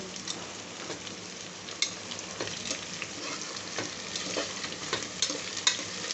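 Vegetables frying in a pan at home, a steady close sizzle with occasional crackles and stirring scrapes, no talking.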